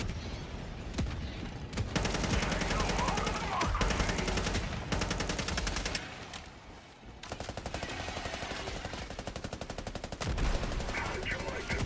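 A machine gun sentry in a roleplay shooter game fires long, rapid automatic bursts, dense rattling gunfire that runs nearly nonstop with brief breaks, loud and close, with faint voices in the background.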